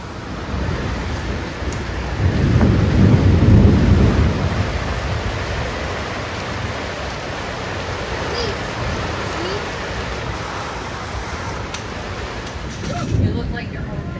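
Storm with heavy rain and flood water running along a street about halfway up the curb, a broad steady rushing wash with deep thunder-like swells near the start and end.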